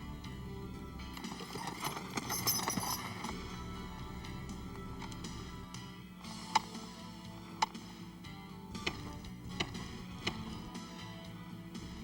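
Horse hooves clip-clopping in the Canadian backcountry, with faint, sparse hoof clops heard behind a full bed of background music.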